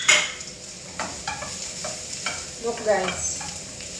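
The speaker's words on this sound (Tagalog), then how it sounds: "Saute the garlic until it turns golden brown." Garlic sautés in a pan with a steady close sizzle and frying hiss, broken by soft scraping stirs; a voice speaks briefly at the start.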